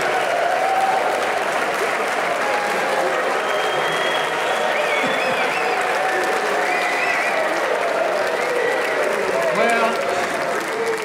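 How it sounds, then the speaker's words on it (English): A concert audience cheers and applauds after a choral piece by a chorale, sustained loud clapping with scattered whoops and shouts that continues evenly for about eleven seconds. "the conductor is turned around and acknowledging the cheers of the crowd"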